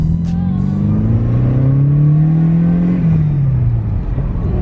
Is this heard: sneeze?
no